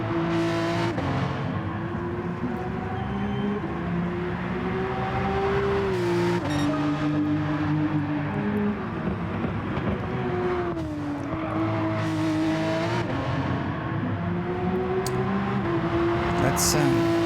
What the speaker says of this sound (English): Exhaust popping off under the downshifts.